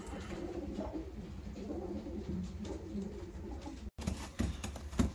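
White-eyed pigeons coo softly and repeatedly in a low, throaty murmur, fairly close, with a brief break and some rustling near the end.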